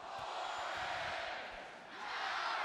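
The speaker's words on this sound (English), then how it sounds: "Listen to that crowd." A wrestling arena crowd keeps up a dense, roaring chant at a college dual meet, a broad wash of distant voices that dips briefly and swells again.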